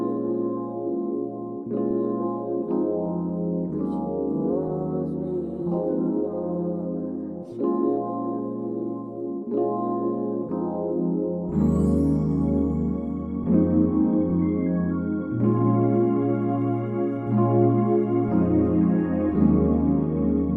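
A type beat built in FL Studio 24 from lush fantasy pad chords and a looping melody, with a heavier bass layer entering about halfway through. The instrumental plays steadily on its own, with no talking.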